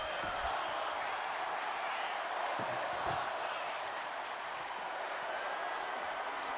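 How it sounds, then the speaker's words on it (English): An arena crowd roars and chants through a pro wrestling match in the WWE 2K25 video game, a dense, steady wash of cheering that never lets up, with a few faint thuds beneath it. "And you hear the crowd chanting, "This is awesome.""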